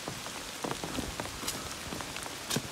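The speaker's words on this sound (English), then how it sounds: "it's still raining on me" Steady rain patters on a surface outdoors in the Glastonbury Green Mountain Wilderness on the Appalachian Trail, a dense hiss broken by scattered nearby drops and a few louder splashes.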